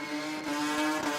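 Car tires skidding at the Garrett Adelaide street car jamboree, a loud sustained screech over a revving engine, close and continuous.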